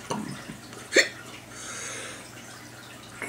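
A single short hiccup from someone who has just eaten a hot Thai dragon pepper, sharp and close, over a quiet room hum with faint background noise.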